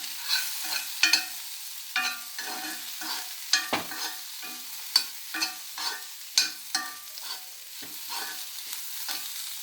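Vegetables sautéed with salt and pepper in a pan for a masala bread stir fry, with repeated close stirring scrapes and light sizzling in an irregular rhythm, no voices.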